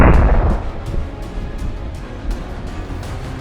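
A hunter's rifle shot at a wild pig cracks loudly at the start, then a reverberating boom fades away with faint clicks and rustling afterward.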